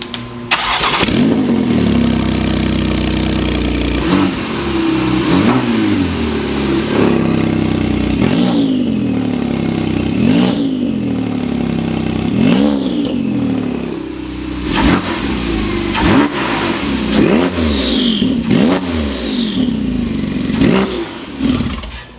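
Porsche 991.2 Turbo with freshly installed bolt-on parts starting up for the first time, then revving repeatedly in loud, close, sharp bursts that rise and fall back to a rumbling idle over about twenty seconds.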